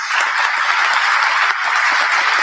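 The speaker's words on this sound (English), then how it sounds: "How about another round of applause for everyone?" Audience applause at the AFITC conference, a dense, steady crowd clapping that holds at a constant loud level throughout, with no speech over it.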